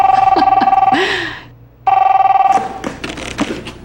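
A telephone bell rings loudly in a rapid trill, pauses, then rings again before being cut off amid brief movement sounds.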